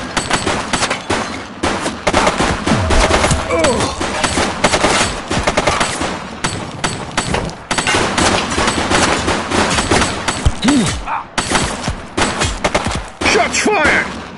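Dense, rapid bursts of gunfire from a police shootout in the video game The Precinct, with loud volleys and automatic fire nearly continuous across fourteen seconds and only brief gaps.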